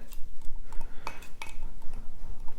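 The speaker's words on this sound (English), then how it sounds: "go in the eggs, and this will get a little hard to mix" Eggs being mixed into custard cake batter in a bowl for Portuguese orange queijadas, with scattered clinks and scrapes of a utensil against the bowl, close and irregular.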